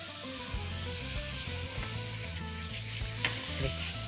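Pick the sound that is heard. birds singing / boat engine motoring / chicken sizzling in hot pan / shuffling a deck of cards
chicken sizzling in hot pan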